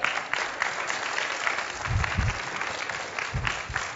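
A church congregation claps hands during a sermon, a steady, somewhat distant round of applause with a few louder low thumps.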